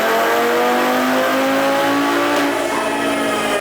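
A tuned car fitted with an aftermarket intake and intercooler roars at full throttle on a chassis dyno, running a JB4 map 0 tune; a loud, sustained engine drone climbs steadily in pitch, alone and close.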